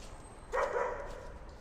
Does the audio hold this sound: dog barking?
yes